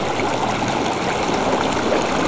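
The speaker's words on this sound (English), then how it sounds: "the rivers that's flowing down here" The Carson River flowing below a white granite wall, a steady close rushing of water with no break.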